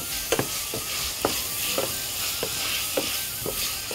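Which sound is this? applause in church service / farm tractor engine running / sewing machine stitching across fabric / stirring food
stirring food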